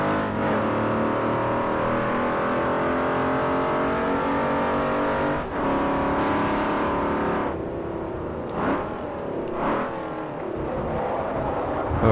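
Race cars in the Forza Motorsport 4 video game roar through a Class B race, with a loud close engine that climbs through the gears, brief shift dips and passing cars whooshing by, and no talk over it.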